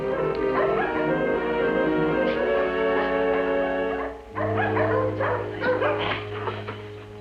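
A dog barks and yips in an indoor scene, its bright repeated calls mixing with a steady musical score and a low hum that continues throughout.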